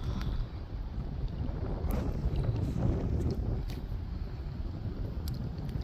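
A converted Sportspal canoe motoring into the wind: a continuous low, rumbling motor drone mixed with heavy wind buffeting the microphone, steady and fairly loud without pauses.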